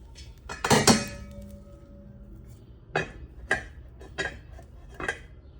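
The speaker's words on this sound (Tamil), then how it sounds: "ஒரு மூடி ஒன்று போட்டு மூடி விடுவோம்" A metal lid set down over a small hopper pan making appam with clinks and clanks: a loud cluster of clatter near the start, then several short, sharp taps spaced across the rest, with no talking.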